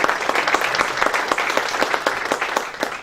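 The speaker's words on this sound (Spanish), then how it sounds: "Les brindamos un fuerte aplauso" Steady, loud applause from an audience at a book presentation, many hands clapping densely and evenly throughout, with no voices standing out above it.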